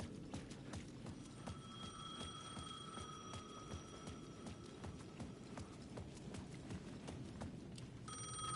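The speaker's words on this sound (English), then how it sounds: "The payphone at the edge of the plaza was ringing again." A payphone rings at the edge of a plaza in the video game Alan Wake II, a thin steady electronic ring sitting over a low rumbling ambience with scattered clicking steps.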